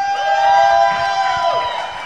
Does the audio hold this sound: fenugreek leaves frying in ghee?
no